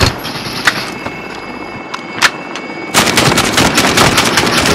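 Video game gunfire: scattered distant shots, then a sustained loud burst of rapid automatic fire that dominates the final stretch.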